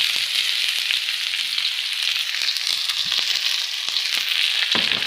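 Onions sizzling and frying in a hot pan for an adobong sayote with pork dish, a steady close hiss with scattered crackles and pops throughout.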